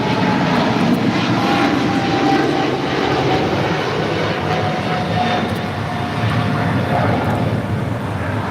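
An airplane at LAX roars loudly and steadily with a broad, sustained engine rumble during its takeoff roll.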